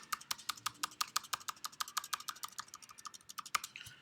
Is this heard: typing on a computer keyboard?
yes